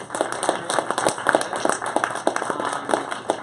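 Audience applause following a student project demo at a coding bootcamp showcase in New York, a steady dense patter of many hands clapping at moderate volume throughout.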